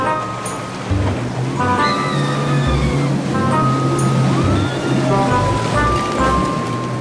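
Sea waves washing onto a beach as a steady, loud rushing wash, with a low rumble of surf and faint higher sounds mixed in, alone without talk.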